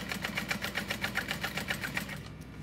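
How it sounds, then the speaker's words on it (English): A sewing machine top stitching around the pocket of a small bowler bag runs close and steadily, with an even rapid rhythmic chatter that slows and stops near the end. "I'm just top stitching around that whole pocket."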